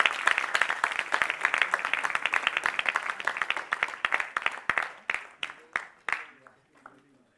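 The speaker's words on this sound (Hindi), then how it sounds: "सभी के उत्साहवर्धन के लिए हम निरंतर तालियां बजाते रहें।" An audience at a cultural festival programme claps in a fast, dense burst that gradually thins to scattered individual claps and fades out over about seven seconds, with some voices underneath.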